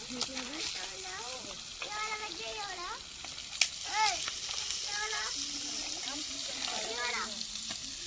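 Chicken pieces fry in oil with a soft, continuous sizzle beneath a person talking throughout at close range.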